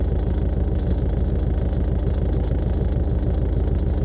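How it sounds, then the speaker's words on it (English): A 1964 Chrysler New Yorker with a carbureted engine idles after a cold start, giving a steady, loud, low rumble with an even, fast pulsing rhythm close by. "this is a cold start 64 New Yorker"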